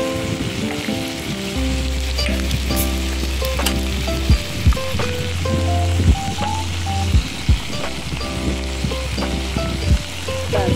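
Onion frying in a pan for an eggplant bharta, a steady crackling sizzle running throughout with a low hum underneath and a few sharp clicks and knocks of utensils, no voices.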